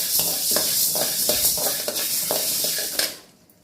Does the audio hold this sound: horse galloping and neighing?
no